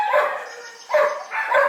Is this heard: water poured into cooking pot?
no